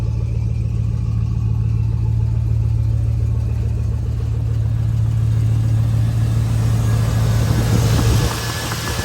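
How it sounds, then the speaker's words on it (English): A straight-piped, LS-swapped OBS Ford truck with 163,000 miles, cold-started after sitting about a month, idles loud and close with a deep, steady, throbbing exhaust rumble that drops away abruptly near the end. "That's as cold as a cold start can get. And it sounds great."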